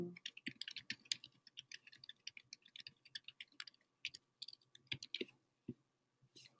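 Someone types on a computer keyboard, an uneven run of quick, light key clicks with occasional heavier taps, close and quiet against a near-silent room.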